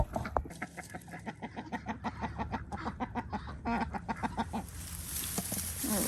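Farm chickens clucking in a steady run of short, rhythmic calls, fairly close and clear, with a slightly busier patch of clucks and rustling toward the end; no talking.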